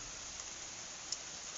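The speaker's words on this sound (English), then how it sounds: "it's raining, so excuse the noise." Faint, steady rain hiss comes from outdoors, with a couple of soft individual drop ticks in an otherwise even wash of sound.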